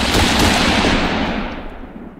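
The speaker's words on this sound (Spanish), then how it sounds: "¿Reventando el ordenador a balazos?" Loud, dense burst of gunfire-like blasts aimed at a computer, a sustained crackling barrage that fills the clip and slowly fades toward the end.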